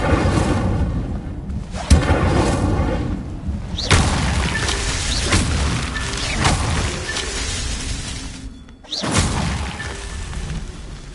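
An Incendio fire spell in a Harry Potter video game erupts as a series of heavy, roaring whooshes and booming bursts, loud and close, filling the stretch with dense crackling fire and impacts.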